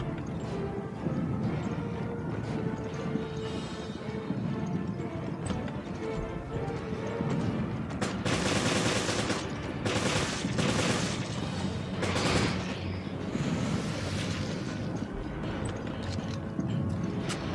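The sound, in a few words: machine gun fire in the video game Resident Evil Revelations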